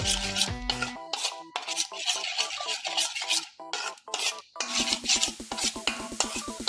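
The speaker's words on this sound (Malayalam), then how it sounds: "ലേശം ഉപ്പ് ഇട്ട് കൊടുത്തിട്ട് വീണ്ടും നമ്മളൊന്ന് മിക്സ് ചെയ്യുക" Cauliflower snack batter is being mixed with a pinch of salt in a bowl. A close spoon scrapes and stirs in steady strokes that grow quicker and more rhythmic toward the end, with no talking.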